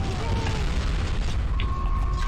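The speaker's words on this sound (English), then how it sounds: "And that's how you use C4 explosive." A C4 explosive detonating in the PlayStation 2 game Conflict: Desert Storm, heard as a loud, sustained, deep rumbling roar with creaking debris textures, filling the whole moment.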